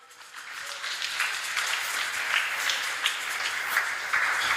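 Applause from a church congregation during a Sunday service, a steady, moderately distant wash of many hands clapping that swells in the first second and then holds evenly, with no talk over it.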